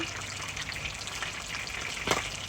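Tilapia fish frying in a pan in a home kitchen, giving a steady broadband sizzle with crackling spatter throughout and a brief louder pop near the end, with no voices.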